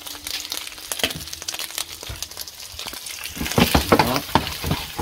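Octopus frying with butter in a hot pan, a loud steady sizzle with scraping and stirring clatter, growing busier and crackling toward the end.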